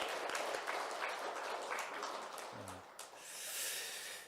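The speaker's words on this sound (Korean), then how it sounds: "우리 박수로 한번 환영하겠습니다." Church congregation claps to welcome visiting family during a Sunday morning worship service, a faint, scattered round of applause that thins out over a few seconds.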